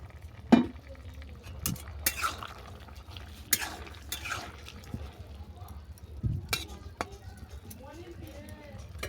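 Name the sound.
stirring vegetables in a pan, then covering with a dish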